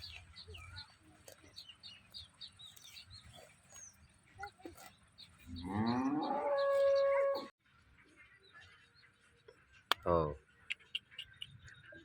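Cattle at a cow sale, with a single drawn-out moo rising and falling for a couple of seconds midway and a shorter call near the end, set against faint outdoor background noise and distant sounds.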